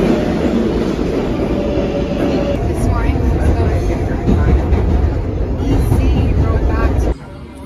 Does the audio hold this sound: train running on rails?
yes